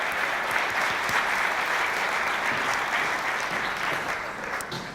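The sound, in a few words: audience applause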